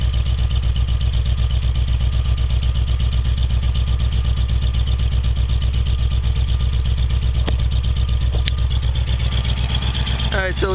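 A 1979 Jeep CJ-5 with a 304 V8 and dual exhaust pipes idles close by, a loud, steady, even exhaust throb held throughout, with a brief higher rev flutter near the end.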